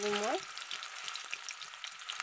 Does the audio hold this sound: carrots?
yes